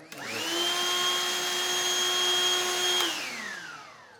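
A BLACK+DECKER Dustbuster Swivel handheld vacuum clicks on and spins up to a steady high-pitched whine, runs for a few seconds close by, then is switched off and winds down.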